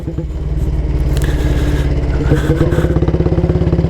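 A 1938 AJS Model 22 250cc vintage motorcycle idles close by, its single-cylinder engine beating in a steady, loud, even rhythm with a light mechanical clatter and no voices.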